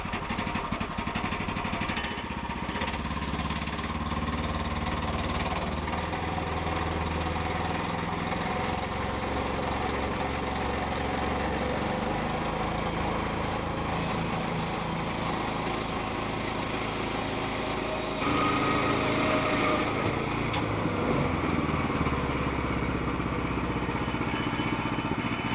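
Sawmill engine, still cold and not warmed up, revving up slowly and steadily, a loud continuous mechanical drone that thickens and rises over roughly 25 seconds with a brief shift near the end.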